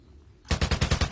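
Rapid automatic gunfire in a first-person shooter video game: a loud burst of about seven evenly spaced shots starting abruptly after a brief quiet moment, with no talk over it.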